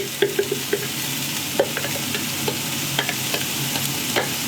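Two finely chopped onions sizzle and crackle in a hot pan with steady frying hiss, punctuated by occasional clicks and scrapes of stirring.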